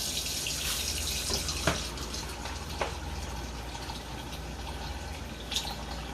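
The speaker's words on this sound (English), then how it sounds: "I'm going to run some cold water" Cold water runs steadily from a kitchen tap, a continuous hissing rush heard close with a few brief splashes and drips, without any voices.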